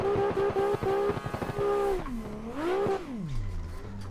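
A BMW E36 race car engine revs hard, its loud harmonic note rising and falling through sharp throttle blips, then sweeping up and dropping back toward a rough, lumpy idle close by.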